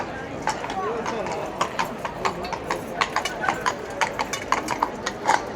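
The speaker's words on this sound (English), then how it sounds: "the horse is now almost at the bollard level" Hooves of a spooked horse clip-clop steadily on hard ground beside a crowd near a gate post and bollards, with crisp regular strikes over a busy background of voices and street noise.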